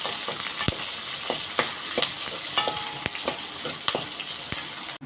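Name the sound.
onions being sautéed in a pan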